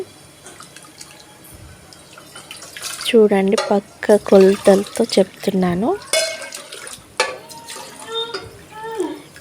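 Four glasses of water are poured into a pot on the stove for mutton biryani rice, a running, splashing pour heard beneath a voice talking steadily throughout.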